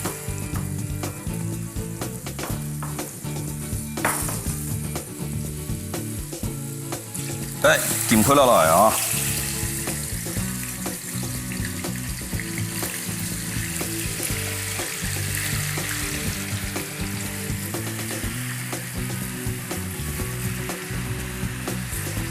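Watery tofu pan-fries in a wok over a fierce flame in a professional kitchen, a loud, dense, continuous sizzle that surges sharply for a moment early on and then keeps hissing beneath occasional chatter.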